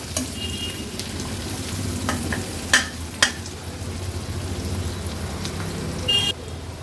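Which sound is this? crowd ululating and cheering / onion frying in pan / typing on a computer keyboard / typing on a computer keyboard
onion frying in pan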